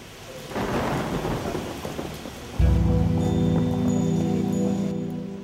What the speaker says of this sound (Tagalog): naghahari-harian naman ang ingay ng mga patak ng ulan